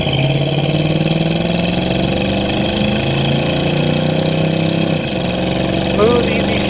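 A 1976 Chevrolet C10 pickup with a 350 V8 and automatic transmission cruising along, its engine humming steadily with a low, even drone and a slight dip in pitch near the end, loud and close from inside the cab.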